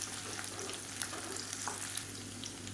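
About twenty small dry red chillies fry in a pan for a spicy chutney, giving a steady soft sizzle with light crackles throughout, no voices.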